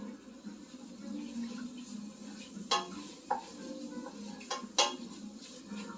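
Food stirred in a pan in a home kitchen, with a low steady sizzle or hum and a few sharp utensil clinks against the pan, fairly quiet.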